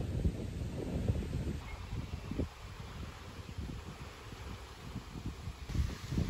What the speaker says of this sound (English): the wind has been picking up very, very slowly, but I'm starting to feel the breeze now